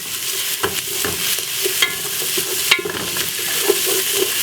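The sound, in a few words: stirring oxtail in pot with wooden spoon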